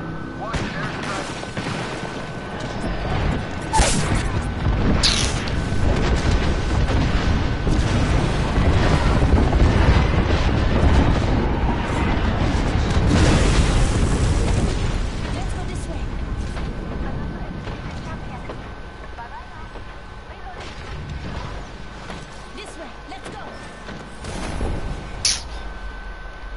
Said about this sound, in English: Watch an airstrike.